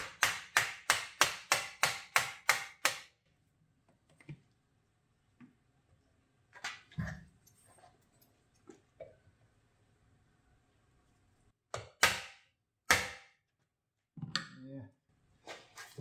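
A rapid series of sharp taps from a plastic hammer on a windshield wiper linkage, then scattered single knocks with quiet gaps and brief low talking.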